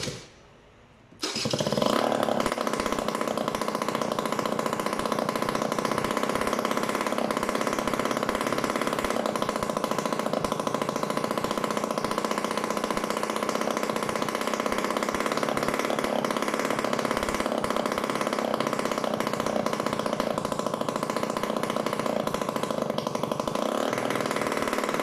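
A Peugeot Kisbee RS two-stroke scooter engine starts, then idles steadily at a loud, close, buzzing drone for the rest of the stretch, with no talking.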